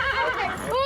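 An agitated horse neighs in a loud, wavering whinny that falls and then rises again in a second cry, close by.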